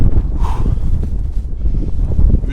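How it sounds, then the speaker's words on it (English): Strong wind in a snowstorm in the Netherlands buffets the microphone in a loud, continuous roar with gusty low rumbling, close and unbroken for the whole stretch. "And the wind intensity is picking up."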